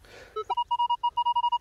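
Minelab Equinox 800 metal detector giving a rapid series of short, steady electronic beeps after a brief scrape, pulsing tones in quick rhythm while the target is out of the ground, loud and close.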